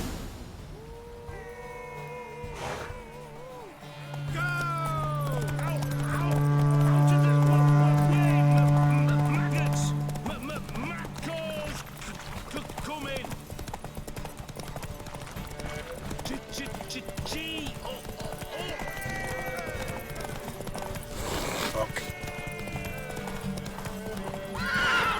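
A horse in The Witcher 3 video game neighs loudly, then clip-clops into a galloping run with hoofbeats and further whinnies, while voices talk over the game sounds.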